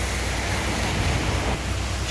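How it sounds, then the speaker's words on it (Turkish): Steady, dense roar of Gelintülü Waterfall near Ayder Plateau, Rize, Turkey, loud and continuous with a broad hissing wash and deep rumble underneath, no voices. "Şelalenin sesi yeter."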